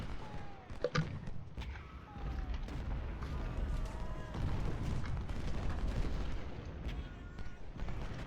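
Battlefield artillery and gunfire in the Civil War strategy game Ultimate General: Civil War, with repeated booms and crackling volleys over a dense, continuous roar of battle, and brief sharp blasts standing out near the start.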